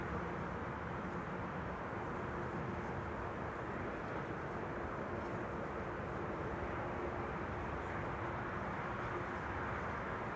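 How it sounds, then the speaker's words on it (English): KLM airliner arriving from Brussels onto the Kaagbaan runway at Amsterdam Schiphol, a steady low broadband roar of engines held at a fairly even distant level throughout, with no talk over it. "KLM flight 1704 is arriving from Brussels, here behind me on the Kaagbaan."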